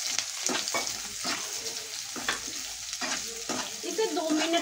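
Garlic cloves and onion frying in leftover oil for a restaurant-style matar paneer, with a close, steady sizzle broken by repeated spoon-stirring scrapes at an even pace.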